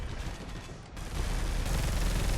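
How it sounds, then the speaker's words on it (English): The assault cannon in Space Hulk: Deathwing fires in a sustained rapid stream, a dense continuous roar of shots that swells louder midway and keeps going to the end. "the assault cannon actually doesn't have that much recoil in the lore"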